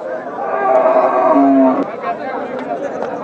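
A bull lows with a drawn-out moo at a busy cattle market, with people chattering close by over the crowd noise.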